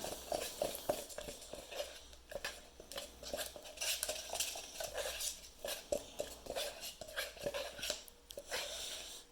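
Homemade slime made with Tide detergent is stirred in a dish, giving a busy run of clicking, tapping utensil contacts and wet squelches, close and fairly quiet, with no voices.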